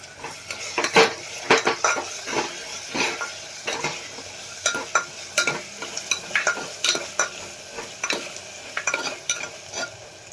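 A spoon stirs and scrapes vegetables with hing and salt in hot oil in a metal pan, giving repeated clinks and scrapes over a light sizzle.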